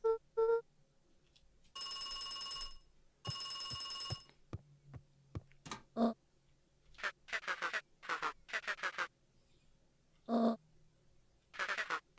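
A telephone in the Beacon Pines video game rings in several short, bright electronic bursts separated by pauses, with soft clicks and taps between the rings in an otherwise quiet room.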